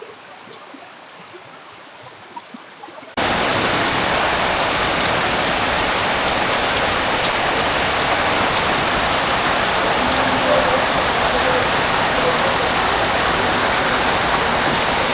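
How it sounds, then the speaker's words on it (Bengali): Heavy rain pours down steadily and loudly, a dense unbroken hiss that starts abruptly after a few quiet seconds and continues without pause. "শুধু বৃষ্টি আর বৃষ্টি।"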